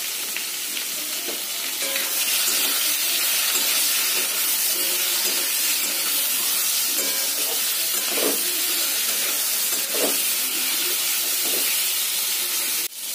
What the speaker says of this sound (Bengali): আলু পটলটাকে ভালো মতো লবণ হলুদ দিয়ে লাল লাল করে ভেজে নিতে হবে